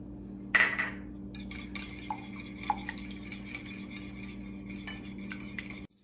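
Whisk clinking against a bowl as a quarter cup of milk is beaten for French toast batter, light scraping taps over a steady low hum, with one sharper knock near the start.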